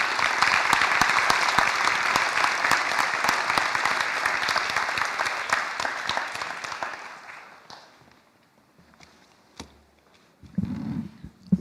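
A high school scholarship ceremony audience applauds graduating recipients with loud, dense clapping that continues for about seven seconds before tapering away into quiet, with a brief murmur of movement near the end.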